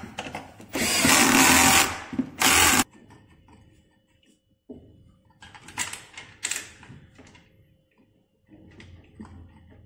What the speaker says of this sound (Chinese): 螺丝带上，再将螺丝拧紧。